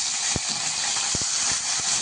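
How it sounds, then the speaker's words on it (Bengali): Turmeric-and-salt-rubbed mourala fish sizzle loudly in hot mustard oil in a kadai, a dense, steady frying hiss broken by a few sharp low pops and spatters. "এবার নুন হলুদ মাখানো মাছগুলোকে কড়াইতে দিয়ে"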